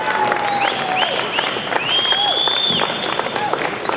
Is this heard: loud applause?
yes